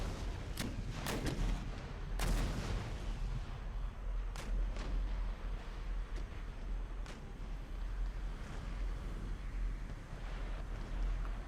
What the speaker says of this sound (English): Open fire, please, once again. This time take out the tribal mounted gunners.